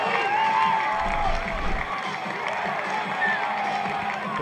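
A crowd at a pro ultimate frisbee game between Minnesota Wind Chill and Madison Radicals cheers and roars in a broad, sustained wash, with a commentator's voice talking over it.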